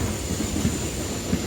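A passenger train bound for Tirupati rolls along the rails near Secunderabad, its wheels giving a continuous low rumble with soft clickety-clack beats over the joints, steady and close throughout.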